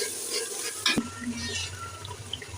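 Turmeric, cumin, coriander and chili powders frying for chicken haleem, a soft sizzle broken by a sharp utensil knock and scraping stirs, fairly quiet with no talking.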